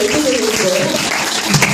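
A church congregation claps during a gospel singer's testimony, with a steady wash of applause running under a voice talking over it.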